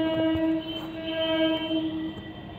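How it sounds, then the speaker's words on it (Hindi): An electric train pulling in at a Kanpur metro station, with a loud sustained tonal hum and whine from the motors over steady rumbling, close by. "इलेक्ट्रिक ट्रेन आ गई"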